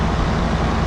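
A 2001 Carrier 38CKC air conditioner runs with an old GE fan motor, a loud, close, steady low rumble and broadband whoosh without a break.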